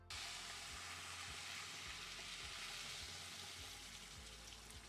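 Water poured onto toasted rice in a hot pot gives a loud, continuous sizzle and hiss with bubbling steam, steady throughout and without any talk.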